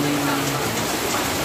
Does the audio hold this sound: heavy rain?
yes